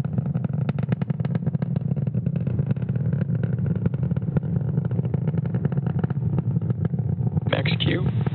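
A SpaceX Falcon 9 rocket climbing through supersonic flight, heard as a steady, dense low roar with crackling texture, continuous under a commentator's voice.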